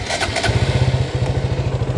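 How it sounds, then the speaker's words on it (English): A KTM 200cc motorcycle engine fires up and settles into a fast, even idle, a loud close throbbing putter with rapid regular pulses and a brief mechanical clatter at the start, with no voices. "So I'm going to start the bike now so you can hear the sound."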